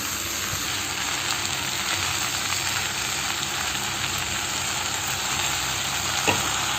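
Chow mein noodles fry in a hot pan as soy sauce and vinegar go in, making a steady, close sizzle and hiss throughout with a faint clink near the end.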